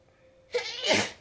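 A single close, loud sneeze with a brief intake of breath before the sharp burst.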